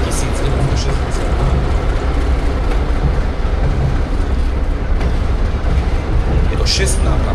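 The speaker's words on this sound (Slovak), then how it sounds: "Je to 6 nápravový rušeň" A historic orange six-axle 'Pomaranč' locomotive of 1960 passing with its train at a rail event, a loud continuous rumbling roar with faint wheel clatter, close by, under someone speaking.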